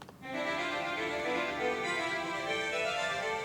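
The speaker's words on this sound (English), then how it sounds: "One melody is playing scales and the other one is playing broken chords." Two computer-generated melodies from Calmus play together, one running scales and one broken chords, forming a dense, continuous layered tone at a steady, quiet level.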